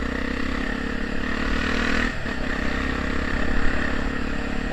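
A Honda Tornado motorcycle fitted with a Protork exhaust runs loud and close with a rough, continuous engine drone. Its note dips briefly near the middle, then swells again in a revving push toward the end.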